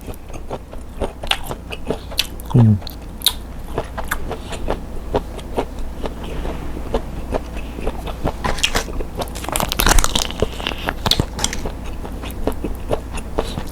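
Loud, close crunching bites and chewing of crunchy squid, crisp and rubbery, repeated irregularly with wet mouth sounds, no talking.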